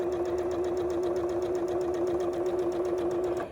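A sewing machine stitches small pieces of quilting fabric in one steady, fast, even run with a clear humming whir, close and alone, stopping just before the end.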